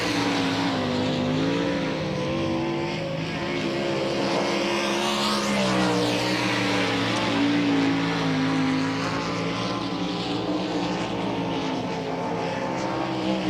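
A dirt race car roars around the track at Volusia Speedway during the DIRTcar Nationals, its loud engine rising and falling steadily as it passes close with a sweeping Doppler shift.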